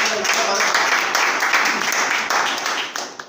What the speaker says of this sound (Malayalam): മനുസാറിന് നല്ലൊരു ക്ലാപ്പ് മനുസാറിന്